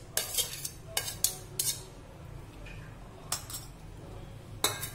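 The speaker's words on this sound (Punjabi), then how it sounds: "ਹੁਣ ਇਹਨੂੰ ਚੰਗੀ ਤਰ੍ਹਾਂ ਮਿਕਸ ਕਰ ਦਾਂਗੇ ਪਹਿਲਾਂ" Sprouted moong chaat with onion tossed in a bowl with a spoon, making sharp clinks and scrapes that come in irregular bursts against a quiet background.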